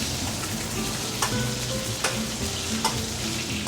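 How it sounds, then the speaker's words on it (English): Pork lechon warming in a hot pan gives a steady, close sizzle and hiss, broken by a few sharp clicks and scrapes as it is stirred or moved. "And then we just want to sort of warm up the other side of the lechon."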